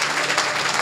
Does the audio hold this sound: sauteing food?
no